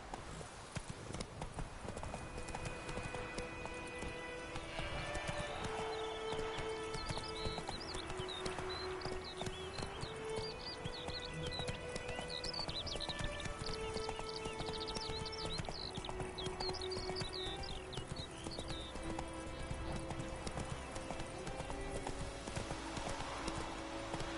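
A horse gallops in The Witcher 3, its hooves pounding in a steady fast clip-clop rhythm that lasts the whole stretch, close and clear over a soft background of game music and ambience.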